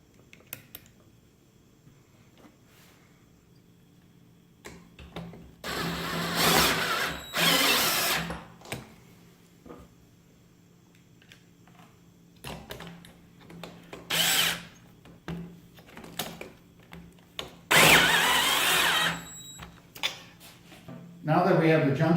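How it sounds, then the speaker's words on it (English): A power drill drives two self-tapping screws to fix a junction box behind the top platform of a lift table scale, giving two loud whirring bursts of a few seconds each, with shorter zips between them and some talk in the background. "we're going to secure it with 2 self-tapping screws"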